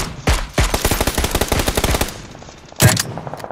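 Rapid automatic gunfire in PUBG: Battlegrounds: a loud, close burst of fast, evenly spaced shots lasting nearly two seconds, bracketed by a couple of heavier single reports.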